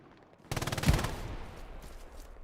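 Machine gun fire during an online multiplayer shooter match, a sudden burst of rapid, close shots that starts sharply, peaks with one heavy blast and then trails into a decaying rumble.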